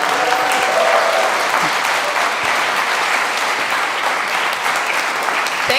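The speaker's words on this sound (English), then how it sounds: "Applause, come on!" A conference audience at ITERATIONS 2024 applauds a presenter, a dense, steady roar of clapping that holds at an even, loud level for about six seconds with no talking over it.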